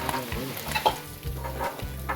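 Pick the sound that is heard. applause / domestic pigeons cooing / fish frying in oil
fish frying in oil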